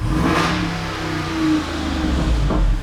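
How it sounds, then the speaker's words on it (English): A stock Jeep Wrangler with a factory 6.4L V8 Hemi revs close and loud, its engine note rising and falling through a couple of quick throttle blips over a deep rumble. "So listen to that. This is a stock Jeep Wrangler."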